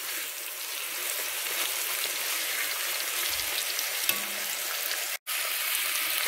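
Chicken breasts brown in a frying pan with a steady, close hiss of sizzling oil that holds even throughout, broken by a brief muffled knock and a quick dropout near the end.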